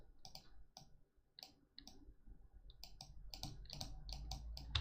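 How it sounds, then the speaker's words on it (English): Computer mouse clicking during a stream, a run of sharp close clicks in irregular bursts, some rapid doubles, over a low quiet background hum. "Bro, I am clicking."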